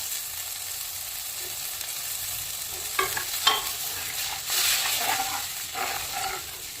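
Liquid curry gravy for sardine (mathi) fish curry pours into a pan of sizzling fried onions and garlic, a steady frying hiss with stirring bursts and a louder surge near the end, no talk.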